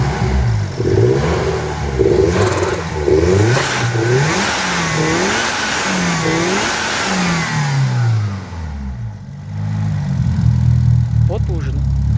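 A car engine fitted with a freshly swapped R25 manual gearbox runs unevenly, its revs rising and falling in rough surges throughout, with voices talking over it near the end.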